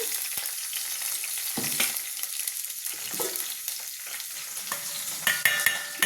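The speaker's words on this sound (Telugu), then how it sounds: "దొండకాయ ముక్కలు కూడా వేద్దాము ఇవి మంచిగా మూత పెట్టి లో ఫ్లేమ్లో వేయించాలి" Ivy gourd pieces with green chillies frying on a low flame in a covered pan, a dense steady sizzle with occasional stirring scrapes and light clinks, close and fairly loud, no voices.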